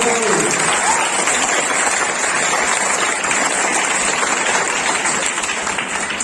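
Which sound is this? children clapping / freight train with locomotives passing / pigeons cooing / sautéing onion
children clapping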